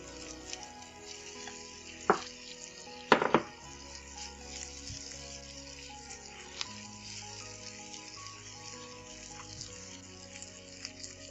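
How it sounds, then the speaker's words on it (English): Chopped garlic and shallot onion sauté in a pan with a faint, steady sizzle, broken by a couple of sharp clanks of a utensil early on, close and fairly quiet with no talk. "We are going to add our chopped garlic and our onion, our shallot onion. We are going to saute this."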